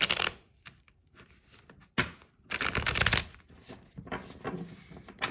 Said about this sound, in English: that is good for the pre-shuffle